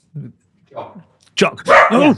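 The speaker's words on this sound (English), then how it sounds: "a dog" A dog gives a few short, mid-loud barks in a podcast studio, spaced apart, before people start talking close by.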